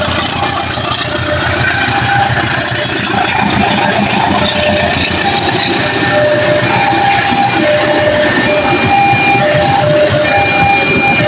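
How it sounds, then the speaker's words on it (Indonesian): A train passes level crossing JPL 109 at Cikarang station with a loud, continuous engine drone and steady rumbling of rail cars. Tonal whines and crossing noise hold throughout at close range, and no one speaks. "kita tunggu kereta api yang akan melintas di JPL 109 stasiun Cikarang"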